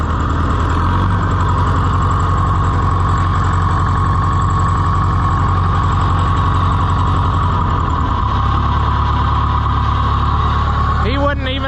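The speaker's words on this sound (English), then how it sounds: "A Freddie cold start" A loud tractor engine chugs and rumbles at a steady idle after a cold start, the rhythm shifting as it settles, with a brief squeal near the end.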